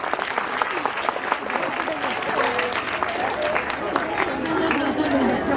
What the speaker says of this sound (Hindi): रेहान के लिए तालियां भाई.